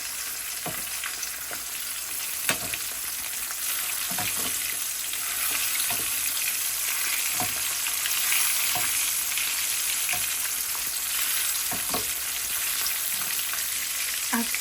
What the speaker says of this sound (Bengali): আর এখানে কিছু শুকনো মরিচ ভাজি করতেছি।